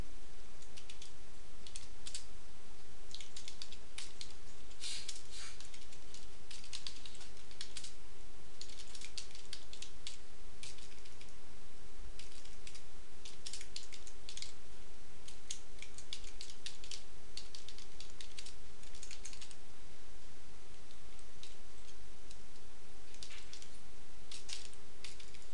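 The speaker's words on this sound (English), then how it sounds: "And then type down the message." Steady typing on a computer keyboard while writing a shoutbox message, continuous irregular key clicks close up throughout, with a constant electrical hum underneath and no talking.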